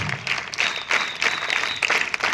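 A school audience at Johnson Global School's 2024 send-off claps steadily in sustained applause, dense and fairly close throughout.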